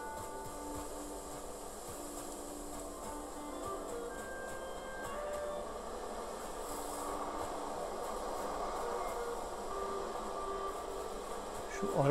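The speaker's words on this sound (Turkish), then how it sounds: "Şu arı kovanına ok atsak acaba şey oluyor mu diye merak ettim de." Bees buzzing around a beehive in the Valheim video game, a continuous droning hum that holds steady and swells slightly, with no talk over it.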